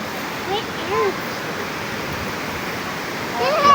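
Rushing water from a river waterfall at Dibulo Falls in Dinapigue, Isabela gives a steady broadband roar throughout, with brief voices talking faintly over it.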